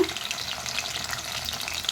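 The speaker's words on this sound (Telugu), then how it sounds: "మునక్కాయలు అయితే ఫ్రై అవుతున్నాను." Moringa drumstick pieces fry in a pan with turmeric for an Andhra-style chicken curry, giving a steady, close hiss of sizzling oil with faint scraping throughout.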